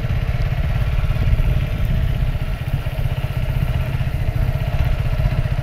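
Several motorbikes on a badly broken city road in Khulna, engines chugging and rattling steadily close by, a continuous low mechanical drone with clattering pulses and no talk.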